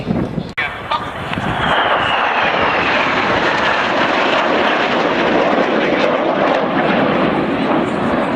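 Airbus A400M military transport with four Europrop TP400D6 eight-bladed turboprops performing at an air show, a loud continuous roar and drone sweeping past, with a commentator talking over it.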